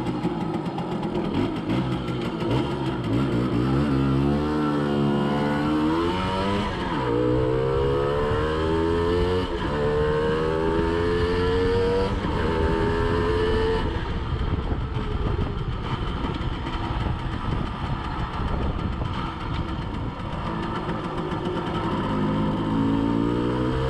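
A Simson S51 moped with its original cylinder running at mid revs on a test ride, the two-stroke engine buzzing loud and close, its pitch rising and falling steadily as the throttle changes.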